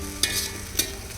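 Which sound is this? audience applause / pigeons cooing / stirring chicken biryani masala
stirring chicken biryani masala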